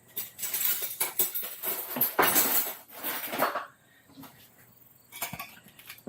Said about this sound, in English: Let me loosen the edges here.